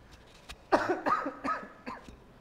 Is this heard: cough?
yes